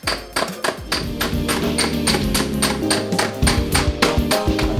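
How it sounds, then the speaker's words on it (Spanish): Rapid, repeated hammer blows ring against metal in a steady, forceful rhythm, close and loud with no talking. "Y aquí te toca es comenzar a martillarla."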